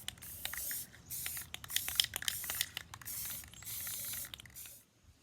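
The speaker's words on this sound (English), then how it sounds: "I spray paint the inside of that as well" Short bursts of hissing spray from an aerosol paint can coating the inside of a recycled bottle planter, several presses in a row with brief gaps and a faint rattle between.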